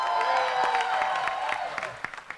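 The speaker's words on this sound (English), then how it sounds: "So I'm going to ask everyone to rise up and give applause" Audience at a New Orleans school solar panel unveiling rising for a standing ovation, a brief burst of moderate clapping from a crowd with scattered individual claps, alongside some crowd voices.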